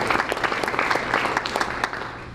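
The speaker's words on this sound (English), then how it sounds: "Let's give her a round of applause" An audience at a county school board meeting applauds a girls track athlete, a burst of dense, steady clapping that fades slightly at the end.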